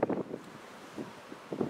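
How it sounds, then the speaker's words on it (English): Blustery wind buffets the microphone in uneven gusts, rumbling bursts rising and falling with brief quieter gaps between them. "Really sorry about the wind."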